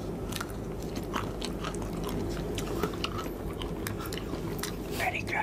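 Crunchy cookies being bitten and chewed close to the mic, repeated crisp crunches at an uneven pace over a steady background hum, with someone talking alongside.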